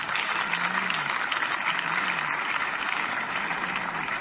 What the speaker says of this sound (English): That clap is not enough for the God of Prophet TB Joshua